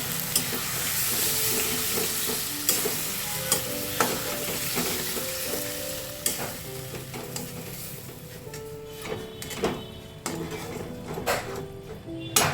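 Loud sizzling from a hot pan of mushroom chilli being stir-fried, a continuous hiss with scrapes and clinks of stirring throughout, growing slightly quieter toward the end.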